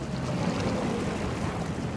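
Ship engines rumble low and steady as vessels maneuver on the Westerschelde, heard from the shore beneath heavy wind noise on the microphone, with no talking.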